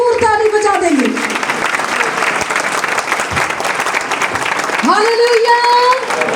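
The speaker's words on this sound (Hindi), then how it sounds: "जो ना तब्दील है और जिसने अपने कलाम की कुदरत से कुल जहानों को बनाया है, भरपूर ताली बजा देंगे।" A church congregation bursts into sustained applause, a thick, steady wash of many hands clapping, with a voice heard briefly at the start and again near the end.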